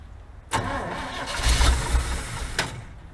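A 1956 cab-over truck engine cranks and catches, sputtering and rumbling loudly up close for a few seconds, with a sharp clank near the end.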